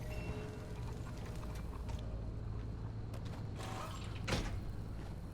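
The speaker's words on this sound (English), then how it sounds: "that's certainly a way to close the door" A vehicle door creaks slowly shut, a quiet, drawn-out mechanical creak ending in a soft thud, heard close and alone with low background rumble.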